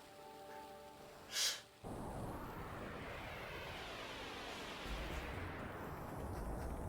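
Shots fired at a fish enemy in the video game Panzer Dragoon Saga: a bright burst, then a sustained loud roaring, rushing blast that continues to the end.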